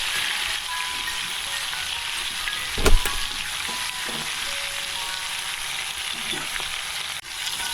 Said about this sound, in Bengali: টমেটোগুলোকেও আমি হালকা করে তেলের মধ্যে ভেজে নেব, নিয়ে তুলে নেব, যাতে টমেটোর কাঁচা গন্ধটা চলে যায়।